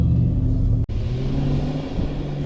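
A Jeep YJ engine rumbling and revving during an off-road desert drive, a steady low drone that cuts out for an instant and then resumes, moderately loud with no talk over it.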